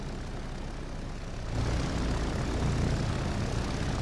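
A squadron of propeller warplanes returns to its aircraft carrier in the WWII naval game Victory at Sea Pacific. A steady, dense engine drone swells louder about halfway through and holds there, with no voices.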